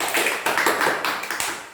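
A short burst of applause from a small group in a classroom, steady clapping with a couple of brief swells, fairly close and with no talking.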